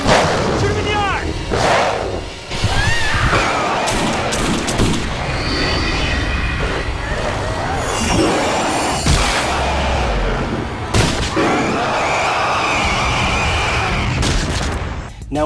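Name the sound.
gunshots in the film Darkwolf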